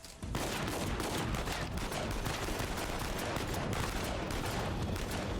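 Dense, continuous gunfire from the video game Uncharted 4, a loud sustained fusillade of rapid shots lasting throughout with no pauses and no speech.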